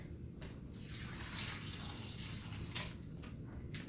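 Fresh-squeezed orange, lemon and lime juice poured into a carne asada marinade, giving a soft, continuous liquid splashing and trickling, close and quiet, with a couple of brief spatters toward the end.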